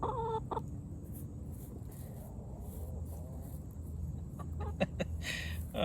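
Copper Maran and golden comet hens cluck and chatter close by, with scattered short calls and a few sharper squawks over a low outdoor background.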